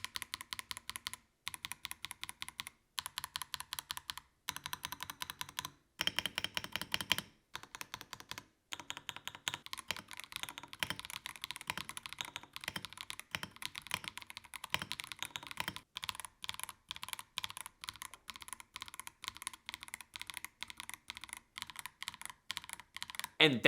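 A mechanical keyboard with Akko purple stabilizers is typed on in a sound test, producing crisp clicky keystrokes in bursts separated by short pauses, then a long run of continuous fast typing, close and fairly quiet.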